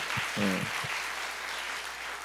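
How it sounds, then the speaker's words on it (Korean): A church congregation at a Wednesday prayer meeting breaks into steady applause, a dense wash of clapping that carries on evenly, with a brief murmur of voices near the start. "잠깐 일어나시면 한번 우리 박수해 주시면 좋겠고요"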